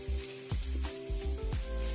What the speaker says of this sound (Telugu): ఇవన్నీ వేసి కొంచెం లైట్గా ఫ్రై చేయాలి